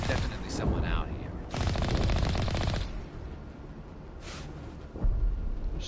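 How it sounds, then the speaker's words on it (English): Mass Effect gunfire: a long burst of rapid automatic shots, then a quieter stretch, a shorter second burst and a final sharp report, heard mixed with speech. "There's still one shooting, but I don't see movement."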